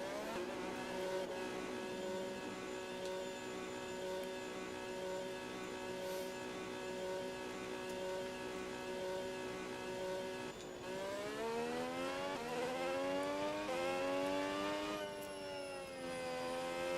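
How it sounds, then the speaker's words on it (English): Formula 1 race car engines in the F1 26 video game, playing as Audi: a sustained high-pitched engine whine, steady and then rising in revs near the end, with no talk over it. "Okay, engines fired up, we're set."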